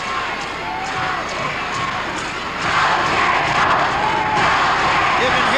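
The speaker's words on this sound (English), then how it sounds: "You can hear the crowd in the background." Wrestling crowd in a Memphis arena shouting for Jerry Jarrett: a loud, continuous roar of many voices with cheering that swells partway through, heard under commentary.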